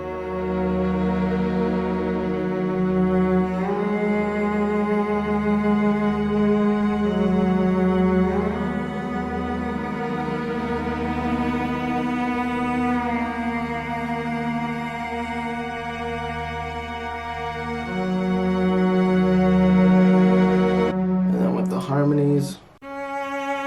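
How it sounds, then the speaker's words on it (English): Cellos play sustained harmonies together, long bowed chords shifting every few seconds, warm and continuous, ending with a brief clatter. "I have like these harmonies going on between the cellos"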